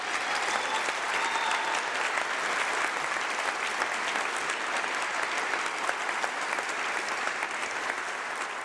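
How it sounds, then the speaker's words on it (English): Applause for PhD graduates at a university winter congregation ceremony, a large audience clapping in a steady, dense wash that holds at even volume for about nine seconds without speech. "Our PhD students deserve a huge round of applause."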